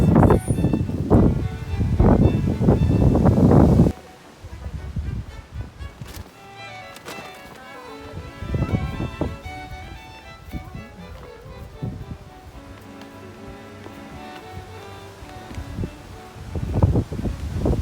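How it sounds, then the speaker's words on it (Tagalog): Wind gusts through a garden at Bateman's, a National Trust property in England. A loud, rumbling buffet hits the microphone for the first few seconds, then settles into a softer, steady outdoor wash with faint voices now and then. "Very windy."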